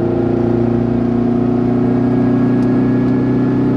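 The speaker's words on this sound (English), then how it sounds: "Listen to this car roar." A 1983 Autobianchi A112 engine roars steadily as the small, light car accelerates, a loud, continuous mid-pitched drone with a constant hum throughout.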